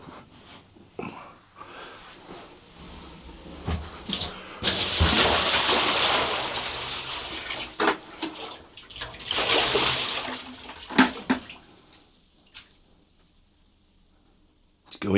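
Storm water is tipped into a bath, giving gushing, sloshing pours in two long loud surges with clunks and thuds between them and quieter handling noises around them.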